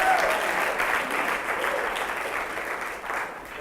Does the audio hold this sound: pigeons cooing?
no